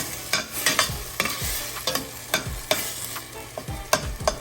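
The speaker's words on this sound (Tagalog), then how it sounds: "Ilalagay naman natin ang ating isda." Salmon pieces going into a pan of sautéing tomato and onion, with a soft steady sizzle and intermittent stirring scrapes and clinks, no talking.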